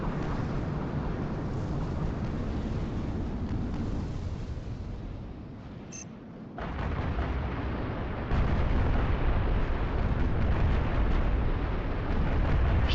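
Halo video game combat on Xbox: a continuous loud roar of gunfire and rumbling explosions, dipping briefly midway then surging heavier, with no clear separate shots.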